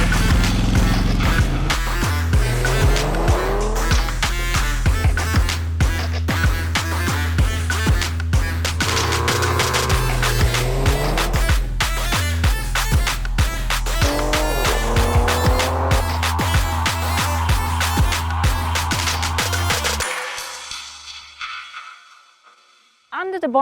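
A Ford Ranger Raptor with a 3-litre turbocharged petrol V6 launches hard under launch control, a loud close engine roar rising through rapid gear changes with tyre noise before fading sharply away at the end.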